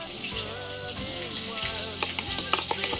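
Tomato, garlic and dry chili paste sizzle and fry in a pan, a steady close crackle with stirring scrapes and occasional sharper pops.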